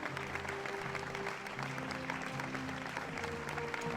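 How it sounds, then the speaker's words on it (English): Steady applause from a crowd in a video game, dense continuous clapping at an even level throughout, sounding somewhat distant. "Where are these claps coming from?"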